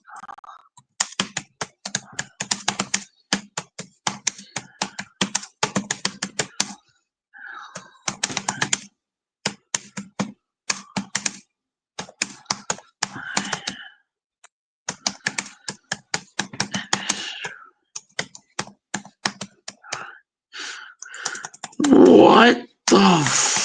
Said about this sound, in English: I'm hammering on the keyboard, and yet letters I'm typing don't appear.